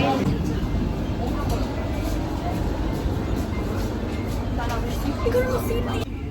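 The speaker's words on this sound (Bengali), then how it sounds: "এই যে ট্রেন চলে এসছে।" A train standing at a busy railway station platform in Assam, with a steady, loud rumble of engine and platform noise throughout and people talking over it.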